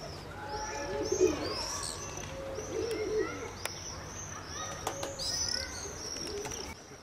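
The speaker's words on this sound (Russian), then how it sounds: "Летные у него голуби." Young flying pigeons coo softly over a steady outdoor hum, with chirps, brief wing flaps and a few sharp clicks scattered through, moderately close and continuous.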